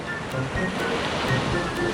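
Sea waves wash up on a beach against a sand castle, a steady close wash of surf with soft rhythmic swells.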